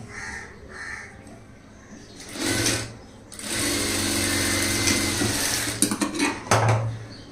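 A sewing machine stitches a blouse shoulder seam, its motor whirring in a long close run after a few short bursts, with a crow cawing faintly and small clinks nearby.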